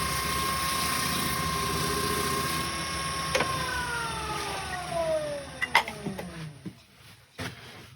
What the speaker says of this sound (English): put it on the buffing wheel just to finish off between the wings on the bottom